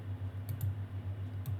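Quick clicks and taps on a computer keyboard, a few sharp keystrokes and mouse clicks over a low steady hum, close and fairly quiet with no talking.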